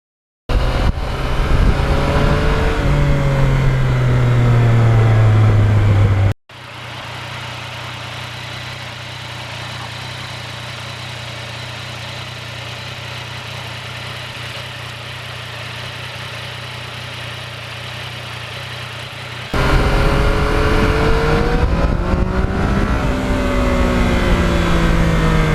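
A 2020 Yamaha MT-09 motorcycle in track mode revs up loudly with a rising engine pitch, drops to a steady lower idle-like drone for about thirteen seconds, then roars back into hard, close acceleration.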